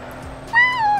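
A pet cat gives a single clear, loud meow up close in a quiet room, rising then falling and trailing off within half a second, with no talk.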